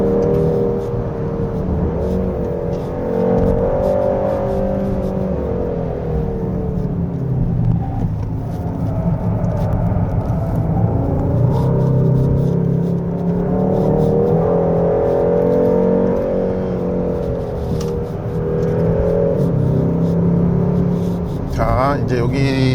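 A 2024 Hyundai Sonata N Line 2.5T on a winding mountain road near Chugok Yaksuteo, its engine a steady close drone that rises and falls throughout, with a voice seemingly talking over it from inside the cabin.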